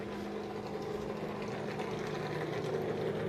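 Race car engines at a garage in Michigan drone steadily, a dense continuous mechanical hum heard at moderate distance without speech.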